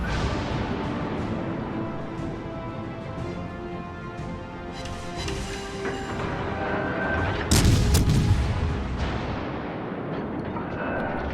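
Naval gunfire from a British cruiser in World of Warships Legends, with heavy booming salvos over a constant battle rumble and a louder close blast near the end.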